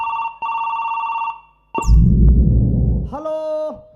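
A new mobile phone rings with a repeating electronic ringtone, then a loud thump and rustle as someone handles it, followed by a voice-like tonal sound, during a folk comedy stage show.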